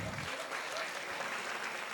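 Steady applause from a large audience at a Women's Day celebration held at an engineering college, dense continuous clapping filling the whole stretch with no pauses.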